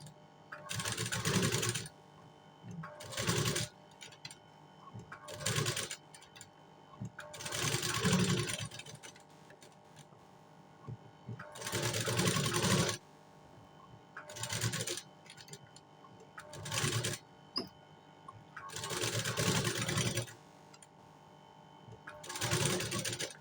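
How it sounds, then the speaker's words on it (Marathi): A sewing machine stitches blouse lining to canvas in repeated bursts of rapid mechanical whirring, each run a second or two long, separated by short pauses with faint handling sounds. "त्याला मी शिलाई मारून घेते."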